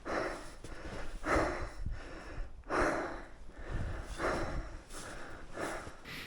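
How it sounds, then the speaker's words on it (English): Heavy, labored breathing after a dual-sport motorcycle ride in the Alberta Rockies comes as loud, close huffing breaths in an uneven rhythm, each inhale and exhale clearly audible, with no talking. "it's honestly embarrassing how heavy I'm breathing"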